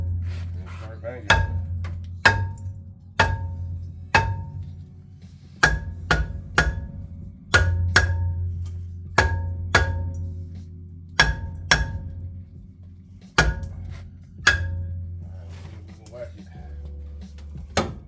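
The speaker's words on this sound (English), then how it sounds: "So usually take the hammer and knock around it." A hammer strikes a Ram 1500 rear brake rotor over and over, sharp metallic bangs at an uneven pace with ringing decay between blows, close and loud, while someone talks over the work.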